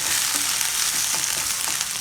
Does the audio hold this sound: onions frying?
yes